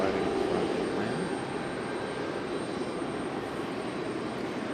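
A Southwest airliner jet at Raleigh-Durham airport roars steadily with a broad, continuous engine rush that stays fairly even throughout.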